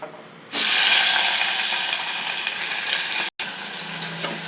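Mutton dropped into hot oil in a pan for a chukka curry, bursting into a loud, steady sizzle after a brief quiet start, with one short break near the end before the frying hiss resumes.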